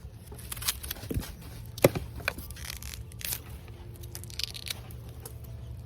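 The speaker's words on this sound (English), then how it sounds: "Cut back this cane." A canna lily cane is cut back during fall bulb lifting: quiet rustling and tearing, then one sharp crisp snip, with faint outdoor background.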